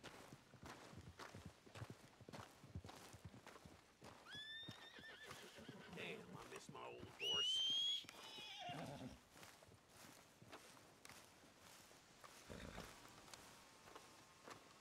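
A horse in the Red Dead Redemption 2 video game whinnies loudly, with steady clip-clop hoofbeats running beneath; a voice speaks briefly partway through.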